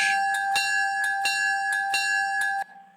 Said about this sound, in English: You can turn on the bell from the cab